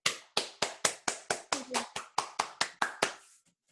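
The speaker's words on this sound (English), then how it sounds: "applause" Roughly fourteen sharp hand claps land in a steady, evenly spaced rhythm, close and fairly loud, after a live song, then stop abruptly.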